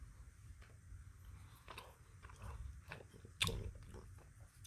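Someone bites into a Reese's Pieces chocolate bar with peanut butter inside and chews it close up. Several soft crunches and mouth sounds come through, with one sharper bite partway through, all at a quiet level.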